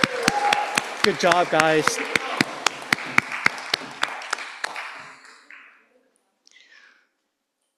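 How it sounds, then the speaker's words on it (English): Church congregation applause at a Presbyterian Sunday worship service, led by loud individual claps over a brief spoken comment, thinning and fading out after about five seconds into quiet. "let's give them a round of applause, please"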